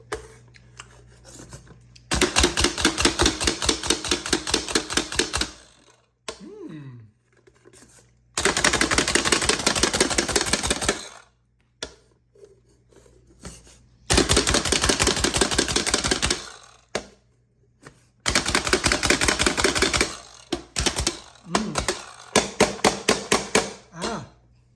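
Black olives are chopped with an OXO Chopper for seaweed salad: four long bursts of rapid, loud mechanical clacking, each lasting a few seconds, separated by short quiet gaps.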